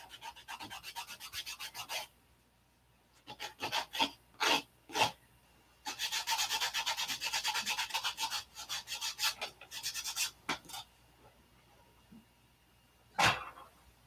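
Sandpaper rubs CA glue off a hand in repeated scratchy passes, some short strokes and one longer stretch of steady rasping, with quiet gaps between them.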